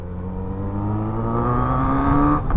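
Kawasaki Z900RS motorcycle engine running and revving, its pitch rising gradually as the revs build, then briefly dipping near the end. Close, steady and alone, with no talking.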